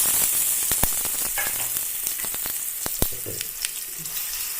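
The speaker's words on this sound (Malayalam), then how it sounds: "വെളുത്തുള്ളി ഒന്ന് ചെറുതായിട്ടൊന്ന് വാടിയാൽ മതി. അതിലേക്ക് ഞാൻ നേരത്തെ പറഞ്ഞു അരച്ച് വെച്ച മസാല കൂട്ടി ചേർക്കുക." Garlic and ground masala paste frying in hot oil for vazhakka upperi, a steady close sizzle broken by sharp utensil clicks and scrapes, no voices.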